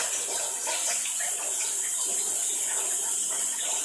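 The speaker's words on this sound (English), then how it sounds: "Go up to your sink." Hot water runs steadily from a bathroom sink tap, a continuous close splashing hiss with no talking over it.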